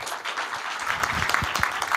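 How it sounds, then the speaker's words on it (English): An audience at a talk on defining open source AI gives brief, moderately loud applause, uneven clapping with a few sharper individual claps. "Big applause"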